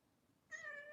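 A cat gives a single short meow, close but fairly quiet, after a moment of near silence.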